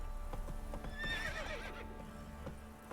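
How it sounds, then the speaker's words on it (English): Epona, the horse from Twilight Princess, gives a short high whinny over soft clip-clopping hooves, faint and distant-sounding throughout. "Repeated horse sound effects."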